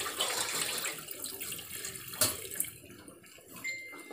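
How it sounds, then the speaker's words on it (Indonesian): Water from a tap runs and splashes in a sink while soaked dates are rinsed, a steady close flow that eases off toward the end, with a brief clatter midway. "ini dia kita mau cuci dulu kurma yang tadi kita rendam"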